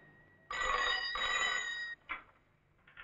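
A telephone bell rings in a tense action-film scene, two loud bursts of trilling ring followed by a short, fainter third, with no talk over it.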